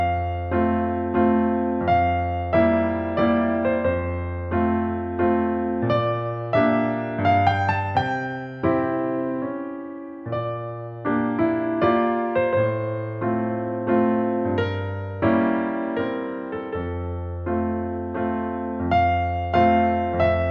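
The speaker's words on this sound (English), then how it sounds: "an example improvisation I did on the chord progression from the opening section of Ombra mai fu" A Chopin-style piano improvisation on the opening chord progression of Handel's Ombra mai fu flows in lyrical phrases over steady rolling bass chords, loud and close, with no voices.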